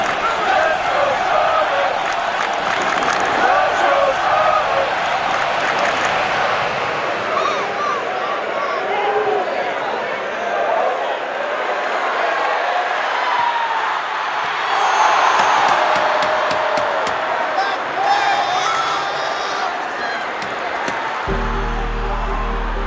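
A huge stadium crowd at a Charlotte FC match roars and cheers in a steady, dense wash of noise that surges midway, with scattered whistles and claps, and a voice comes in briefly over it near the end.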